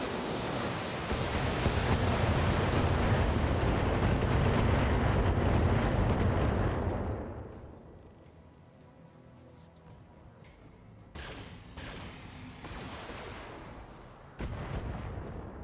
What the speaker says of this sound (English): let's fire some LRMs